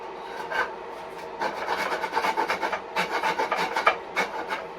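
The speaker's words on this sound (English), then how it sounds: "Look down the bore and use this type of file or this rasp first to take a little bit more." A rasp files inside the bore of a wooden jinashi nobekan flute, giving loud, close rhythmic scraping strokes in quick repeated bursts, with no voices.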